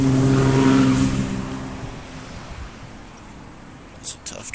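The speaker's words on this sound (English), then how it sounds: "That's a tough truck." A truck engine roars past close by, loud at first with a deep revving growl that fades away over a few seconds, leaving quiet road ambience.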